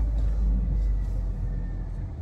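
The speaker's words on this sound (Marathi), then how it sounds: "चला गाडी काढून घेतो मी आता" A car engine rumbles low and steady close by as the vehicle is started up to drive out, a continuous deep drone with no voices over it.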